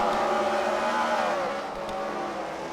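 Race cars run on a track at a Freedom Factory fight night, their engines a steady, droning roar that eases slightly as they pass.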